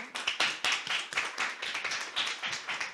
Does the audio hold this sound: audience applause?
yes